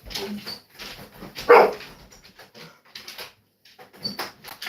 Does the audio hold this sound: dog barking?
yes